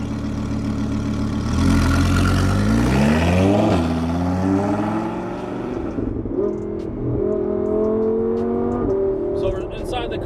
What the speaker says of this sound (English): You can hear the ripped exhaust. I mean, this car sounds amazing. With the full titanium exhaust we have on it